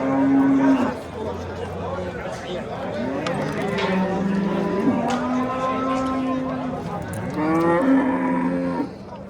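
Cattle low repeatedly at a busy livestock market in Samarkand, with several long, loud moos close by over a steady crowd murmur.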